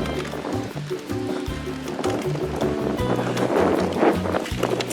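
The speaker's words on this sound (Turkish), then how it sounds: "Çünkü çok rüzgar var." Wind blusters across the microphone in rough, uneven gusts, joined by low rumbling and intermittent tonal hums.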